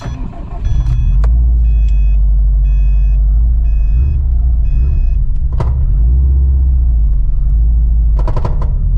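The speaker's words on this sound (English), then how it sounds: "This clutch is so shuddery in this car. Rattles the entire exhaust system" A Subaru STI drag car's engine rumbles loud and close in the cabin, the clutch shuddering with a low judder that rattles the exhaust system in occasional metallic knocks, while a steady electronic beep pulses repeatedly.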